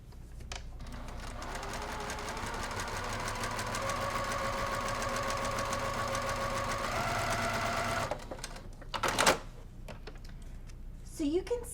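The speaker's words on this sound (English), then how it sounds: "I'm going to stitch directly on these 2 lines" A sewing machine stitches quilt pieces at 1.5 stitch length with an open toe foot and Aurifil thread, a steady rapid close-up whirring run for about eight seconds before it stops, followed by handling clicks.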